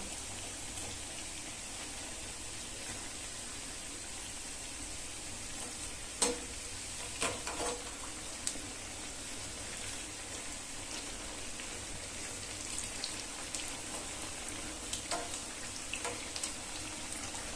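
Onion vadas deep-frying in hot oil make a faint, steady rain-like hiss that runs throughout, with a few soft clinks as the fritters are turned over.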